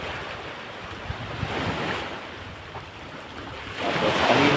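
Ocean waves wash onto a quiet white-sand beach beside rock formations, a continuous close surf hiss that builds and recedes, with wind buffeting the microphone.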